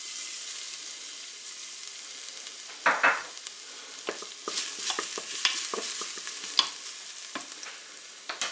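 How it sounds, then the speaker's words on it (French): Garlic drops into hot olive oil in a Cookeo multicooker bowl and sizzles, with a brief louder burst as it lands, then a soft, steady frying hiss broken by light stirring clicks. "Mon huile est chaude, je vais mettre l'ail dans la cuve."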